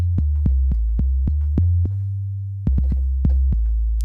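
Deep, clean 808 bass notes boom in a bouncy pattern with sharp clicks on top, each new note cutting off the last, with a brief pause midway.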